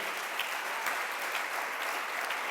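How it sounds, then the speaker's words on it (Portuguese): Church audience applauding during a sermon, a dense, even burst of many people clapping at once, loud and steady across the whole moment with no talking over it. "Você pode aplaudir o seu Deus"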